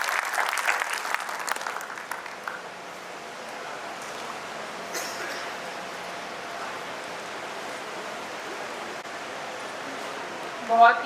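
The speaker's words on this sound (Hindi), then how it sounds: "आइए जोरदार ताली से स्वागत कीजिए आदरणीय सेक्रेटरी बोर्ड मैम का।" Applause welcomes the secretary of the Haryana State Agricultural Marketing Board at a formal event, clapping strongest at first and then fading to a faint, steady patter under the room's ambience.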